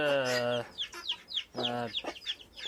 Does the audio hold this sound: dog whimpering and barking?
no